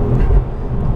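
A Ford Focus RS Mk2 on Eibach springs pulling in third gear through a left-hander, a loud, steady, low engine drone heard from inside the car.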